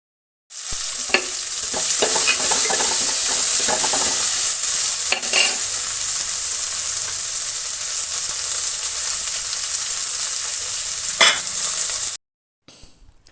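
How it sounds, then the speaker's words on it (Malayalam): Okra (lady's finger) being stir-fried in a pan for a curry: a steady, loud sizzle with scraping stirs and a few sharp clinks, running continuously until it cuts off abruptly near the end, with no talking. "എന്നിട്ട് നമ്മൾ അതിലേക്ക് വെണ്ടക്ക ഇതൊന്ന് ഉടഞ്ഞതിന് ശേഷം വെണ്ടക്ക ഇട്ട് അതിലൊന്ന് വറുത്തെടുക്കുകയാണ്"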